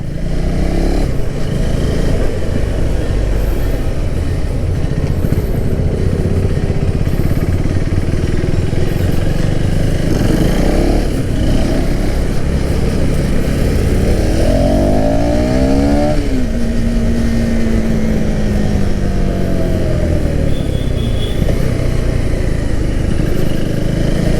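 A 2024 third-generation KTM Duke 390 motorcycle is ridden, its engine droning loud and steady throughout, with the revs climbing and falling in a clear sweep midway.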